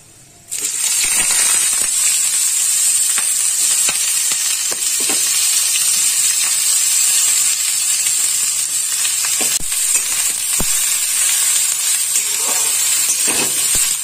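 Long slices of eggplant drop into hot oil tempered with whole spices for a Bengali begun kajoli fish curry, bursting into a loud, sustained, close hissing sizzle that holds steady with scattered pops and faint stirring clicks.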